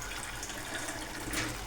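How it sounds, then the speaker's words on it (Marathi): Water steadily poured into a gravy for paneer tikka masala, a faint continuous splashing and running flow that carries on alone without talk. "अजून थोडं पाणी ॲड करायला लागतं"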